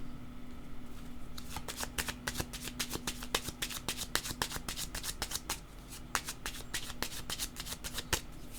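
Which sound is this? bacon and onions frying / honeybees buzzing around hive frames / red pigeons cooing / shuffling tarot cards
shuffling tarot cards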